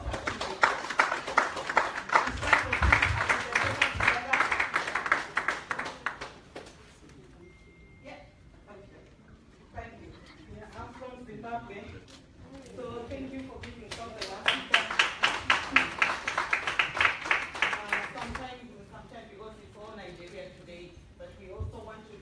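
Audience applause at the Every Woman Matters UK women's summit swells twice, first as a long burst of clapping, then a second round after a pause. A voice speaks in the quieter stretch between the two bursts.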